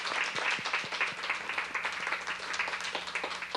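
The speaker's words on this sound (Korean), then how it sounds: "우선은 우리 박수 한번 쳐드리십시오." Applause from an audience at a Kouksundo qigong therapy session, a steady, dense clapping of many hands that lasts throughout without a break.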